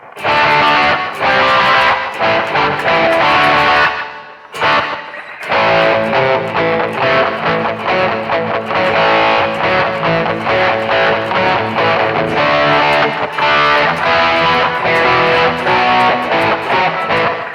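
An electric guitar played through an overdrive distortion patch on a BOSS eBand rings out in loud, dense strummed chords with one brief pause.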